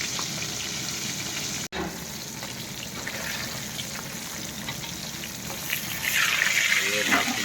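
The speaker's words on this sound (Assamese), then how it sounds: "লোকেল মাছ 1 কেজি আনিলোঁ, তাকে ফ্ৰাই কৰি আছোঁ মই" Local fish sizzles and crackles steadily in a hot pan, a dense continuous frying hiss with a brief break and a louder, brighter spatter toward the end.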